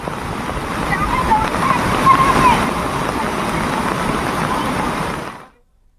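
Floodwater rushes loudly and steadily through a rain-swollen city street in Haldwani, Uttarakhand, where a car sits stuck in the water; the roar of flowing water fills the scene, with faint voices underneath, before cutting off abruptly near the end.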